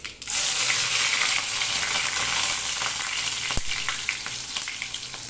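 Crushed garlic hits hot oil with cumin in a pan for a dried-fish kuzhambu, a loud, close, steady sizzle that starts abruptly and carries on, broken once by a sharp click.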